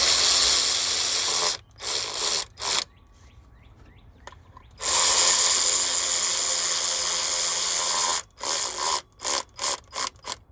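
A power impact wrench rattles in short bursts while snugging water pump bolts on a Dodge 5.9 V8 engine: a long run, a pause, another long run, then several quick trigger taps, loud and close.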